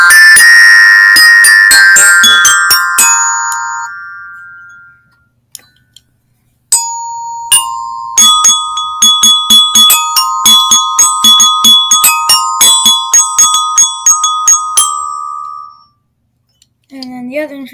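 A bell kit plays a simple scale of struck metal tones, loud and close. A ringing cluster of notes decays first, then a steady run of separate clear pings follows in even rhythm.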